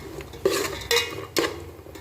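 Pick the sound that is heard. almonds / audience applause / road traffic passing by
almonds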